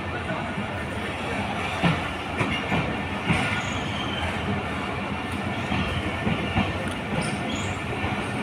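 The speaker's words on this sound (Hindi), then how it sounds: "हमारी ट्रेन है खैबर मेल डाउन, जो कि डिपार्चर हो रही है बहावलपुर रेलवे स्टेशन से" Khyber Mail down train pulling out of Bahawalpur railway station, with steady rumbling wagons and clickety-clack wheels, occasional brief squeals, and faint voices nearby.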